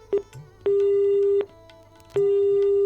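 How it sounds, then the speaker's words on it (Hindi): Telephone disconnect tone during a call-in astrology show: three steady beeps at one pitch, a short one followed by two long ones with pauses between, loud and clear with no talk over them. "कट गया है फोन।"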